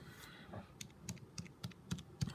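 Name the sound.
typing numbers on a calculator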